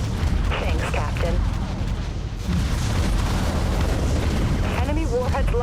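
Torpedoes launch and detonate in the naval combat game Dreadnought, heavy rumbling booms and blasts rolling over a loud low roar, with voices talking through the action.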